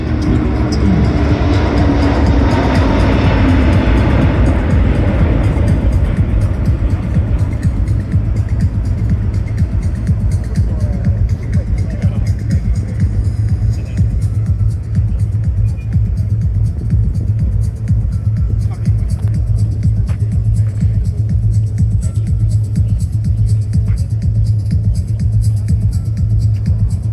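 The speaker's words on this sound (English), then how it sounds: "the A350-1000 version flying here" An Airbus A350-1000 airliner flies at the Singapore Airshow 2024, a loud, continuous deep roar and rumble that swells early on, then holds steady throughout with no talk.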